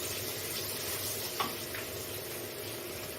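Chopped chilli and onion frying with salt in a pan for a ridge gourd curry, a soft steady sizzle with one brief scrape of stirring partway through.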